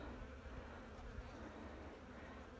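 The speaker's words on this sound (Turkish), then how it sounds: "Kovana giriş deliğinden değil de farklı kokuya gelen yerlerden, boşluklardan girmeye çalışan yağmacılar." Robber honeybees buzz steadily around a beehive, seeking gaps other than the entrance to get inside; a dense, continuous hum of many insects stays close and even throughout, with no voices.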